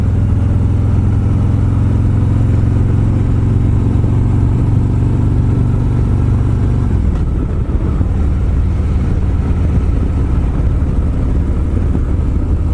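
Harley Davidson Road Glide motorcycle on a demo ride, a steady low engine drone heard from the saddle that shifts down partway through, mixed with a constant wind rush and no talking.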